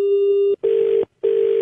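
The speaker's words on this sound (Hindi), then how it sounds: "मैंने कहा फोन करके पता करता हूँ मैं" A telephone ringback tone sounds loud and close, a steady electronic tone repeated three times with short silent gaps between the pulses.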